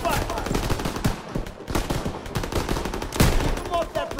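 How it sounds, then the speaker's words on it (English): Machine guns open fire during a World War II battle in Call of Duty: WWII, a dense, continuous stream of rapid shots with loud, sustained battle noise throughout. "MGs, open fire!"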